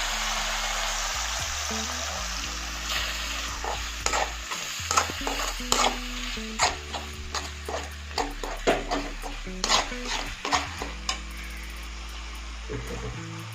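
A cornflour and water slurry is stirred into a frying pan for egg manchurian, with repeated scraping stir strokes and a soft sizzle over a quiet bed of background music.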